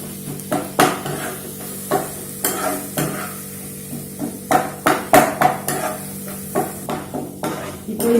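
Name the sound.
chicken gravy masala with tomatoes sautéing in pan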